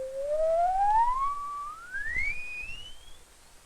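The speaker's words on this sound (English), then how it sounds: "And we can have a range of higher tones" A pure electronic tone from an oscillator glides steadily upward in pitch over several seconds, clean and continuous with faint overtones, alone with no talk.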